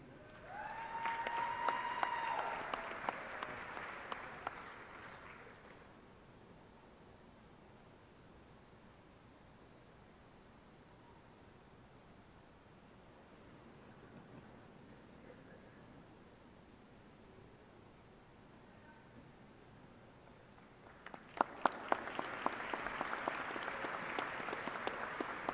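A university fall commencement crowd applauds in two bursts: a few seconds of clapping, a long quiet stretch of faint room noise, then another strong round of applause starting up.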